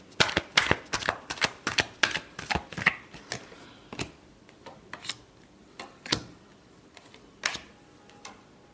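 Tarot cards being shuffled in a run of sharp, rapid riffles and slaps, dense at first and then thinning to scattered single snaps, loud and close with no voice.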